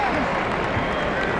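Arena applause at the 1997 NBA rookie game comes as a dense, steady wash of crowd clapping and noise beneath a commentator talking over it.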